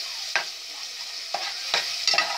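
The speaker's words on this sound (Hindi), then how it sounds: "तो मसाला हो रहा है फ्राई मेरा।" Spice masala fries in a pan for an elephant foot yam (jimikand) sabzi, a steady high sizzle broken by several sharp scraping stirs, close and clear with no voices.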